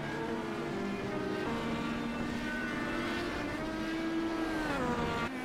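An open-cockpit Indy car racing at Mid-Ohio in the iRacing simulator, its engine holding a loud, steady high-pitched whine that shifts pitch as it rises and drops through gears, running alone without talk.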